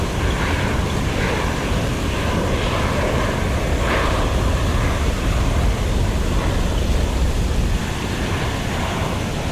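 Airbus A320 engines roar in the Microsoft Flight Simulator X game, a loud, continuous, wind-like rush that stays steady and dense, with no voices.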